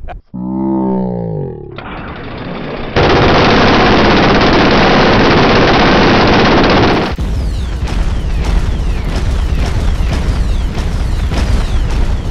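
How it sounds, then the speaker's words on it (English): An M134 minigun fires an extremely loud, dense, continuous roar for several seconds, framed by a short rising whine before and rattling, buzzing mechanical noise after. "We just shot 100 bullets per second."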